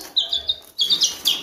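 Parrots and chicks chirp in a series of short, bright bursts. The calls come in several clusters, fairly close and moderately loud, with no one talking.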